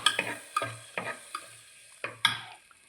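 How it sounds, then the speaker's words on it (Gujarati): A spoon stirs a pot of lilva bean curry in a handful of distinct scraping strokes with short pauses between them, close and fairly crisp, with a soft wet sizzle and no speech. "હલાવી નાખો બધું."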